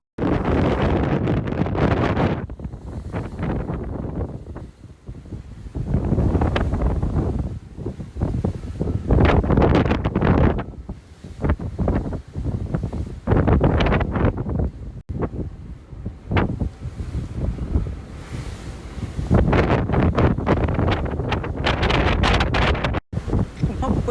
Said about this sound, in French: il y a vachement de vent